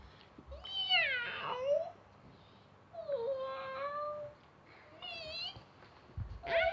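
A person imitates a cat, giving several drawn-out meows with rising and falling pitch, separated by short pauses, fairly close and clear.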